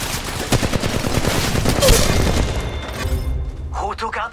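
Rapid gunfire rattles in an Apex Legends match, a close burst of repeated shots that fades toward the end as a voice speaks over it.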